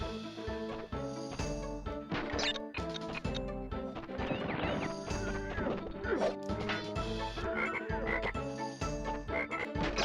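Repeated frog croaks inside the PS1 game Crash Bandicoot: Warped, layered over busy game music and sound effects with loud hits, steady and close throughout.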